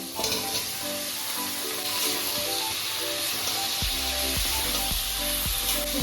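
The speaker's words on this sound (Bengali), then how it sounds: "মশলাটার সঙ্গে আলুটাকে ভালো করে কষিয়ে দিলাম" Potatoes and green peas sizzling with spices in a pan, stirred so that a hot, crackling fry runs steadily under repeated scraping knocks of a spatula toward the end, with no talking.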